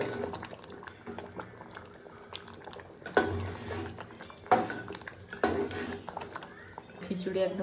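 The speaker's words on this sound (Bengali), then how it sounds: "একটু ভালোভাবে ফুটিয়ে নেব" Khichuri with winter vegetables bubbling in a pot, soft simmering and occasional clinks of a utensil against the pot, close, while someone speaks over it.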